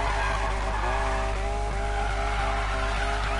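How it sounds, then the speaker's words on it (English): A race car in Need for Speed Payback skids with a loud continuous tire squeal over a droning engine, the pitch wavering as the car slides, close and unbroken with no speech. "This is my race car."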